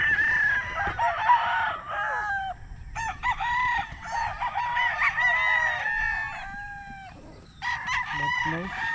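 Chickens cluck and squawk in a busy, overlapping chorus while a rooster crows loudly nearby, the calls coming in repeated bursts with brief lulls between them.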